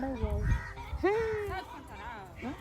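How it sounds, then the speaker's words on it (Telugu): A hen cackling and clucking up close, several drawn-out honking calls with breaks between them, loud and near, mixed with some background voices. "మా కోడి ఫైనల్గా దొరికింది"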